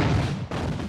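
Cannon fire in an 18th-century Vendée war battle scene, a loud dense booming roar with a sharp new blast landing midway through the second.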